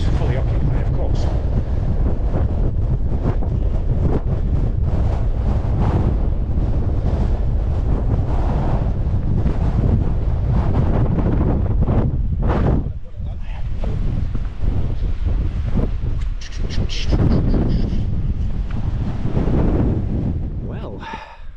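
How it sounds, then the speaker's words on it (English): Strong gusty wind on the summit of Ingleborough batters the microphone with loud, continuous low roaring and buffeting. It eases briefly partway through, and a voice can be heard faintly beneath it. "the wind on the top of Ingleborough there was significant"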